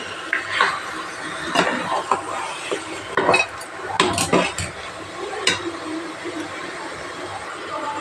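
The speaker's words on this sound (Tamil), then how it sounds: "நல்லா கலந்து விட்டுக்கணும்." Spoon stirring chicken kulambu in a pot, irregular scraping and clinking strokes close by, several sharp knocks against the pot edge amid quiet kitchen background.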